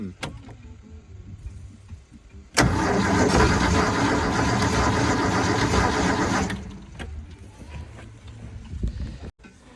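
The engine of a Ski Nautique boat, with its spark plug removed, cranks loudly and continuously for about four seconds without firing, then falls away to quiet surroundings.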